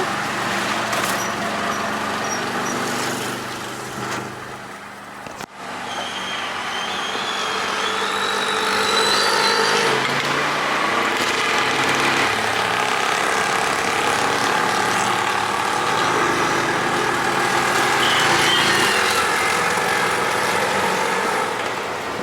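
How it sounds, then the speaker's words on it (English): Tuk-tuk engine during a ride through Colombo, Sri Lanka: a steady, close motor drone with road noise that dips briefly, then swells as the vehicle picks up speed. "I'm in a tuk-tuk."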